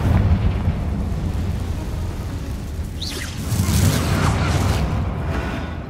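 Confringo fire spell blast in Hogwarts Legacy: a dense, roaring burst of noise that sustains for several seconds and swells again midway, with a whooshing streak through it.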